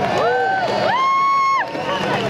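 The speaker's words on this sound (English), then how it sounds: "Please give them a large round of applause," A festival crowd at Cropedy Festival cheers and applauds, with loud rising whoops and whistles ringing out over a steady wash of clapping and crowd noise.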